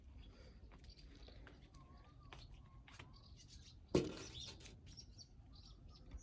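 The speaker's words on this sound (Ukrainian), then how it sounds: "Співають пташки." Faint birds, including swallows, chirping and tweeting in the distance at seven in the morning over a soft outdoor background, with a brief rustling knock partway through.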